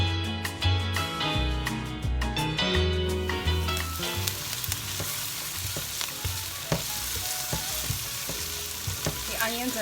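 A chopped medium onion sauteing in hot oil for a keto cheesy bacon soup, with a busy crackling sizzle and scattered sharp pops, close and fairly loud, and background music under it early on.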